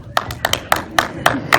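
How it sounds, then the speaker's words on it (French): Three people clap for a theatre audience at a Nicky Larson film premiere, about seven sharp, close handclaps in a loose, uneven rhythm, with low room noise between them. "on va vous applaudir, mais que nous trois, pas vous."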